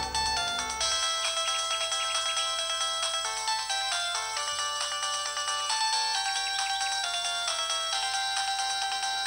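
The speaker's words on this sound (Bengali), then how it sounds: "এত ভোরে আবার কে ফোন করলো?" A phone ringtone plays loud and steady for about nine seconds, a bright repeating melodic tone with no other sound alongside it.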